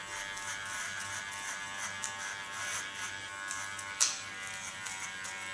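Electric hair clipper cutting a boy's hair during a haircut, a steady close buzzing hum throughout with a brief sharper click near the end.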